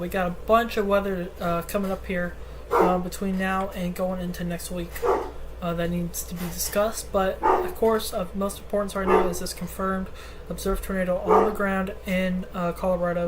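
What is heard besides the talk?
large dog barking indoors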